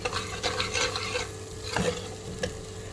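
Onions sizzle in oil for a dhaba-style lentil dal, with a soft steady fry and a few clinking stir strokes against the pot, heard close up.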